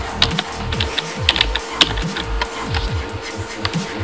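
Someone types on a computer keyboard at close range. The keys click in quick, uneven bursts with a few sharper taps, and there is no talking.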